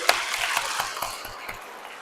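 A short burst of clapping hands at a church service, sparse and fairly quiet, with several distinct claps in a loose rhythm rather than a full ovation.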